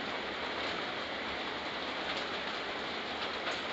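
Constant rain roars evenly throughout, a thick unbroken hiss that could pass for a rumbling train, with no talking.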